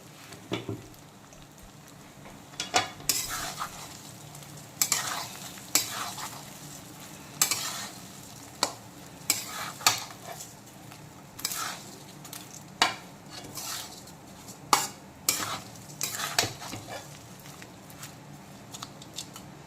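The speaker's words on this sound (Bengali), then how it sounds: "এখন বেশ কিছুক্ষণ লো আছে চালটাকে ভেজে নেব কিছুক্ষণ।" Rice for basanti pulao fries gently in a pan on low heat under a soft sizzle, while a spatula scrapes and stirs at irregular intervals close by.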